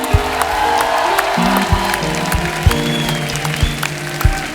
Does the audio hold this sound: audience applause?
yes